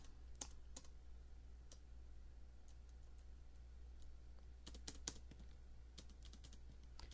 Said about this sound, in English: press Control C on my keyboard